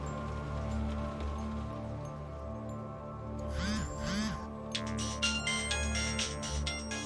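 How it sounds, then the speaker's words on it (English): An electronic phone ringtone chirps in warbling bursts over a steady outdoor hum of wind and rustling, fairly close and clear. "That was until the phone rang."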